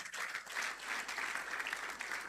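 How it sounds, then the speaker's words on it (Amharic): Congregation applauds their pastor at a church appreciation day service, a steady dense wash of clapping that holds evenly throughout without voices. "አጨብጭቡለት።"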